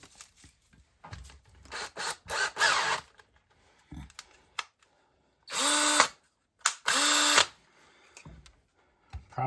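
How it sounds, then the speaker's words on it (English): Short bursts of an old cordless DeWalt drill on full drill setting whirring as it bores a hole, in several separate runs, with pauses and handling clatter between them, close up. "I have this ancient DeWalt drill."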